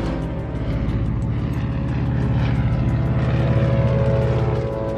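Propeller-driven Kuomintang military aircraft flying overhead over mountainous country, a steady, loud droning engine hum that swells slightly and holds for several seconds with no voices.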